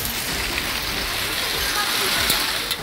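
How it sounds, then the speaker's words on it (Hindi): Heavy rain pours down in Delhi during a dark morning storm with hail, a dense, steady hiss of falling water that stays loud and unbroken throughout. "बारिश ने घंटों तक रुकने का नाम नहीं लिया"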